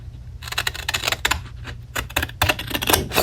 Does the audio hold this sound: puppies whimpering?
no